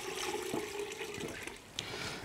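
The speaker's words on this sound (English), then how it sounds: "we're going to add in our cold water." Cold water poured into a stock pot holding bones and mirepoix, a steady close splash and trickle running throughout with a brief bright spatter near the end.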